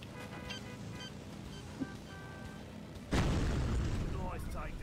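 A C4 charge detonating in a video game: a sudden heavy boom that cuts in partway through and rolls into a long roaring rumble, following a stretch of quieter game sounds with faint tones.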